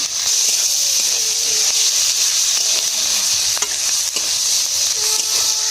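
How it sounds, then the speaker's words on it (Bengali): Dried red chillies and bay leaf crackle in hot oil for tempering a crab and orange dish, producing a loud, constant hissing sizzle with scattered pops and light stirring throughout. "শুকনো লঙ্কা ফোড়নে দেবো"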